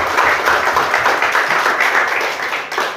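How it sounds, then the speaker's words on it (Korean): Steady applause from a church congregation at a Sunday worship service, dense overlapping claps filling the room for several seconds without pause. "우리 감사의 박수 좀 부탁드릴까요?"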